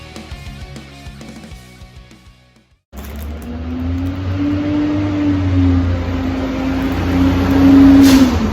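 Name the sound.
garbage truck passing by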